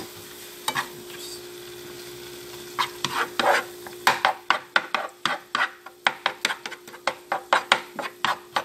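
Onions frying in a pan and being stirred, the utensil scraping in quick repeated strokes over a steady sizzle that becomes busier and more rhythmic toward the end.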